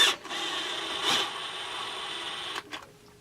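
A power screwdriver whirs as a screw is driven into a Husqvarna 394XP/395XP chainsaw clutch cover, a close continuous mechanical whine lasting a couple of seconds before cutting off.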